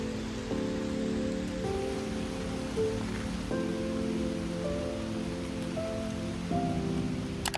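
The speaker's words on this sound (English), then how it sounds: "it's starting to rain a little bit too hard and it's breaking the cover of the trees" Heavy rain falls through a tree canopy and patters steadily on surfaces nearby, a constant hiss under a low tonal hum that shifts pitch every few seconds.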